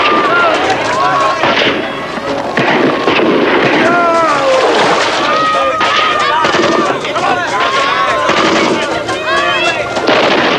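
Gunfire in a World War II battle scene crackles in rapid, loud bursts and overlapping shots, with voices shouting among the shooting.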